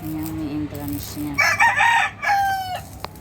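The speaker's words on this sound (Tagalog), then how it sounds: "May mga manok dito guys." Chickens clucking at a rural site, followed by a rooster crowing loudly nearby in a long drawn-out call, with quiet background murmur.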